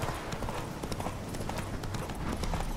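Horse hooves gallop in the Witcher 3 video game, a dense, rapid clip-clop rhythm that keeps running evenly at moderate volume under faint game ambience.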